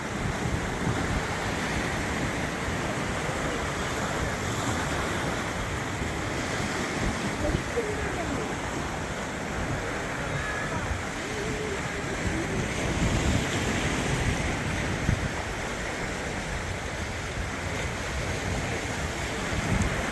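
Waves surge and crash steadily against a rocky shore along a coastal walkway at Jeongdongjin, South Korea, a continuous roar with wind buffeting the microphone throughout.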